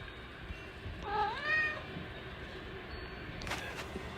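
A pet cat gives a single rising-and-falling meow, moderately close, over a faint steady background hum, with a small clink afterward.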